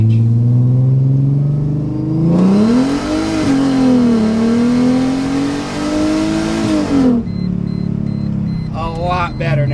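A Mercedes SLK32 AMG accelerating hard from 60 to 130 mph, the engine note rising and holding through a long high-rpm pull with a loud roar, then easing off, with voices talking in the cabin near the end.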